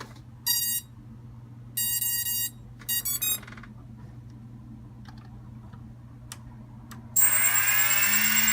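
An Emax Nighthawk 280 drone sounds its low battery warning: three short bursts of rapid high electronic beeping, close by, over a steady low hum, followed by a loud burst of hissing motor noise at the end.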